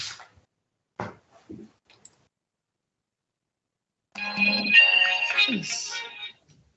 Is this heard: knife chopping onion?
no